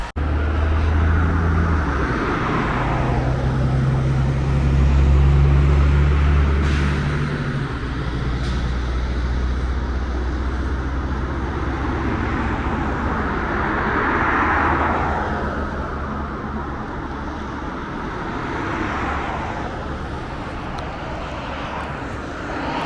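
Cars pass on a foggy road as a steady, broad traffic rumble with low engine drone. Several vehicles swell and fade in turn, close to moderately distant, with no voices.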